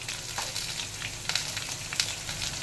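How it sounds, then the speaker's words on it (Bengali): Whole cumin seeds sizzle in hot oil over fried taro and potato, a steady close crackle with a few sharper pops and no talking. "এবার এখানে ফোড়নের জন্য দিয়ে দিলাম গোটা জিরে,"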